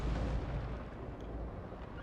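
A ship explodes in the naval battle game Pike and Shot, giving a quiet, low rumbling boom that rolls on and slowly fades, with no voices over it.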